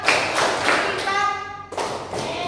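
A classroom of pupils clapping together in a counting game: a few sharp, fairly loud claps in a ragged rhythm, with a brief sung or spoken voice in the pause between them.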